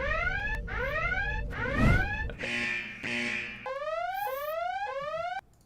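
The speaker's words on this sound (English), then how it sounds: "I need to pull up everybody's favorite, the Shots of the Week alarm" A podcast segment alarm sound effect plays loudly on its own, with repeated rising and falling siren-like electronic sweeps followed by a series of rapid stepped synthetic tones, steady throughout and ending abruptly.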